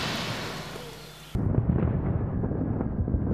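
An artillery shell exploding in a 1915 wartime scene: a hissing rush cuts off into a sudden heavy, rumbling blast that keeps booming and churning at close range, with no voices.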